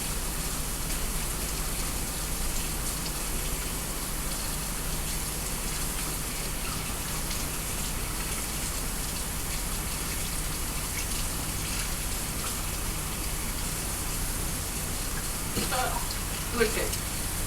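Running water rinsing a chocolate-coated bowl in a kitchen sink, a steady close hiss of flowing water throughout with a few faint clinks near the end.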